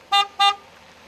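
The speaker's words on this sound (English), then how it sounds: "Sound the horn 2 times to go forward" A vehicle horn gives two short, clear beeps in quick succession, then falls quiet.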